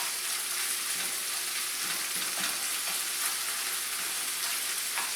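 Ground beef sizzles and fries hard in a hot pan over medium heat, a steady close crackling hiss that runs throughout with no talking.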